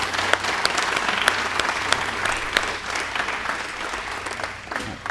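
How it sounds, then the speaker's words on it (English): Audience applause for a panelist at a blockchain and real estate panel, steady dense clapping throughout with sharp individual claps standing out. "let's just give the gentleman here a round of applause"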